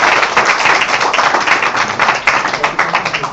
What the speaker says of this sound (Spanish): recibámoslos con un aplauso